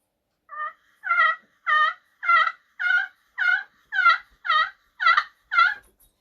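A series of ten evenly spaced, slow clucks from a friction call imitating a male turkey gobbler, each note clear and isolated against silence.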